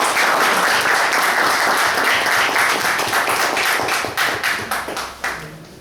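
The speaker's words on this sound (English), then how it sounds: "Please let us give a applause." An audience applauds loudly and continuously at close range; the clapping thins into separate claps and fades near the end.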